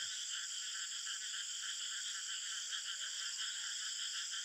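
Fungoid frogs call from the Western Ghats in a steady, continuous chorus of rapid croaks, a dense high buzzing trill that persists without a break and carries no voices.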